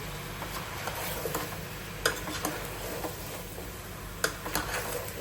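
Ginger garlic paste stirred into gumadikaya (pumpkin) curry in a pan, a steady low sizzle under soft scraping, with two sharp spoon clicks against the pan, close and continuous.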